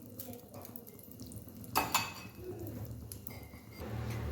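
Rice is dry-roasted in a pan for quick rice modak, giving soft scraping and stirring scuffs with a sharper clatter midway, fairly close and quiet, with no talk.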